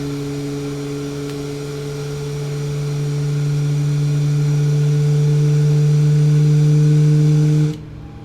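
A steady jet engine drone from a Boeing 737 MAX flight simulator builds gradually in loudness with a low tonal hum, holding a constant whine before cutting off abruptly near the end.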